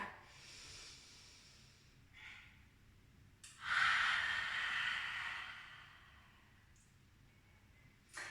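Deep breaths during a yoga flow, soft and close: faint airy inhales, then one long, stronger breathy exhale that fades into quiet.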